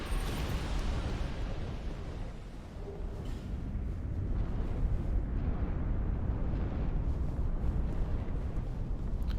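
Explosive enemy in Dark Souls II detonating amid loud, dense game noise, a sustained rumbling blast texture filling the whole stretch with no clear separate bangs.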